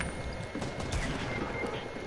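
A new shotgun fires in the video game Fortnite, amid a dense, noisy stretch of gunfire with overlapping blasts and clatter at moderate loudness.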